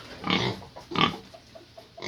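A pig for sale squeals in two loud, broad bursts near the start and middle, followed by a few softer grunts and squeaks close by.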